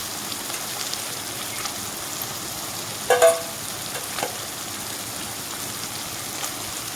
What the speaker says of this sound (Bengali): দশ মিনিটের মতো একটু ভাজা হতে দেবো এক সাইড তারপরে আমি উল্টে দেব